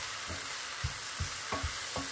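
Spinach and garlic frying in a pan are stirred in about six distinct scraping strokes over a steady low sizzle, close up, with no talking.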